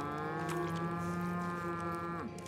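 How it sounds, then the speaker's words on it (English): A cow in the video game The Outer Worlds gives one long sustained moo, close and loud, which falls off in pitch at the end. "Who ordered the cows?"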